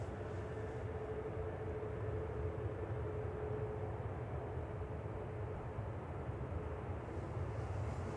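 Airliner arriving at Manchester Airport from Luxor, Egypt: a steady, distant broadband jet roar held at a constant level throughout, with no voices.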